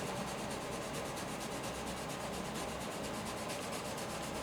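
A filbert brush rubs dark Van Dyke brown and sienna paint onto canvas with a soft, continuous scrubbing rasp, close and even throughout, with no talk.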